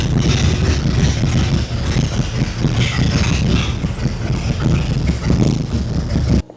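A Ford Galaxie V8 fitted with log headers runs loud and steady, a rough low rumble with uneven pulsing throughout before cutting off abruptly at the end.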